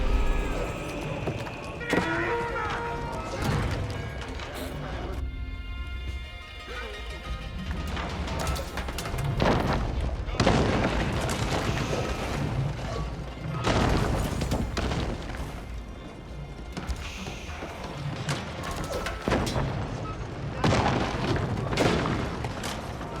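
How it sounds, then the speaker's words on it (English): Age of Empires 4 battle with Rus and French armies as mangonels barrage a town center, heavy booming impacts and crashing debris recurring every few seconds over a busy din of hooves and combat. "Mangonels now being deployed in the field, barraging town center."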